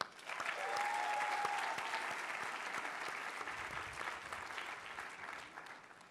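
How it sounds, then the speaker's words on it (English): Audience at a Harvard Medical School class day ceremony breaks into sustained applause, dense clapping from a large crowd that swells quickly and then slowly fades over several seconds. "let's give him a round of applause"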